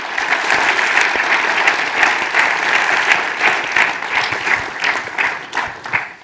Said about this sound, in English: let's have a big round of applause for everybody who spoke today.